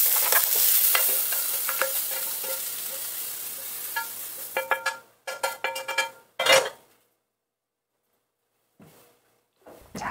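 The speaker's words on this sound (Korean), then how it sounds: "표고버섯 볶습니다" Shiitake mushrooms stir-fried in oil in a pan for gujeolpan, a Korean dish: steady sizzling with repeated utensil scrapes and clinks, fading into silence with a few brief stirs near the end.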